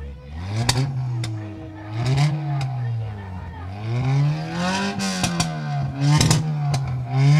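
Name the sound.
car engine revving, loud exhaust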